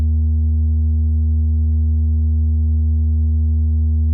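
Arturia MiniBrute 2 synth bass drum with a frequency modulation sweep, heard as a steady, loud, deep sine-like hum held for several seconds with a faint buzzing edge, alone and unchanging until it cuts off.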